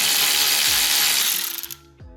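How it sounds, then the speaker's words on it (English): A tool works on the front seat bolts of a Porsche 997/991, turning them with an E12 E-Torx socket. Dense mechanical ratcheting and clicking carries on steadily, then trails off into a few scattered metallic clicks near the end. "For the front seat bolts, we're gonna use an E12 ETorx."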